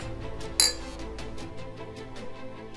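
A single bright clink of glasses raised in a toast, sharp and close, followed by a faint ringing decay over steady low background noise.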